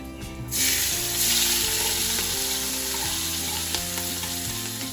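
Dark green leaf cabbage sautéing in a pan, with a strong, steady frying sizzle that rises sharply after a brief quiet start and holds evenly against a faint background hum.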